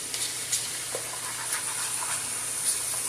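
A pot of filling with chicken bouillon and pepper being stirred, a steady low hiss and simmering sizzle with occasional soft scraping clicks of the spoon, close and alone.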